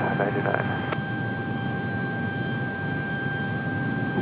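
A Delta airliner takes off from runway 23 right at Raleigh-Durham International Airport, a steady broadband engine roar that holds evenly throughout, with a brief faint voice near the start.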